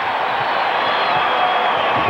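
Dense arena crowd of over 15,000 at a 1992 NBA basketball game, a steady loud roar of cheering and noise filling the space with no clear breaks.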